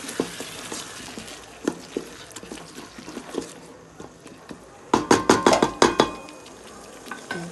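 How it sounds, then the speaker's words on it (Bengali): A spoon stirs dal in a cooking pot during home cooking, giving scattered scraping knocks, then a quick cluster of louder clattering strokes near the end, with a faint sizzle underneath. "একটু ডাইলে দিলাম নাড়া দিলাম"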